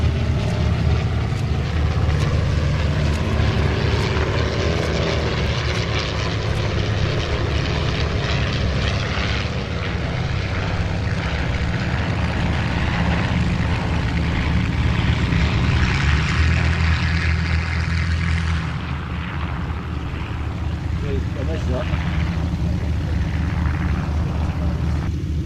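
Three classic British racing aircraft flying together in formation, their propeller engines producing a continuous loud drone that swells and shifts as they pass overhead at an air display.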